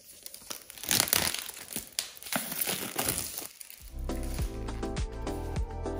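Apple Watch SE 2022 packaging being opened by hand, with close crinkling and tearing of plastic and paper in bursts, then a steadier rustle as the box is handled.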